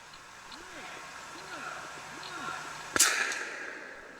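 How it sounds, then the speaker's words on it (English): A single sharp crack of a bullet breaking the sound barrier rings out over a faint low background with muffled murmuring voices, followed by a brief fading echo. "That is the sound of a bullet breaking a sound barrier."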